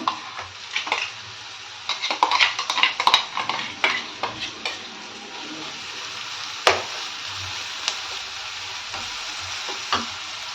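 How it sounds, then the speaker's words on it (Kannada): Ground masala tipped into golden-fried onions in a pan and stirred for a capsicum curry, with a soft sizzle under a cluster of scraping, clinking spoon strokes early on, then sparser knocks and taps against the pan. "ಅದಕ್ಕೆ ಈ ರುಬ್ಬಿಟ್ಕೊಂಡಿರೋ ಮಸಾಲೆಯನ್ನು ಹಾಕ್ತಾ ಇದ್ದೀನಿ"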